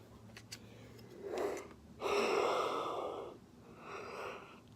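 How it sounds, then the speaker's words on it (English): A person yawning close to the microphone, one short breathy intake followed by a longer open, drawn-out exhale and a softer trailing breath. "Excuse me, sorry, yawning."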